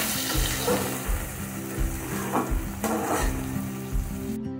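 Tomatoes fry and sizzle steadily in a pan, with a constant hiss and a few scraping stirs and clinks from a spoon close by.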